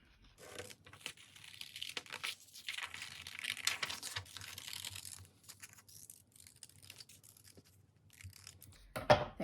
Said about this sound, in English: get your scissors again, and you're going to cut out that circle